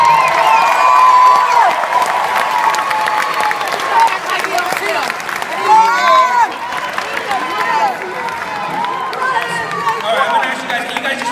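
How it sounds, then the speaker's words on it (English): A graduation audience bursts into sustained applause for their families, dense clapping mixed with cheers, whoops and a crowd babble of voices throughout. "why don't you give your family a big round of applause?"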